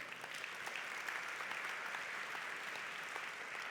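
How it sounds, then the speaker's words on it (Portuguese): A church congregation claps together in steady, even applause that carries throughout, moderately quiet and heard from within the room with no voices over it. "pode bater palmas para Deus"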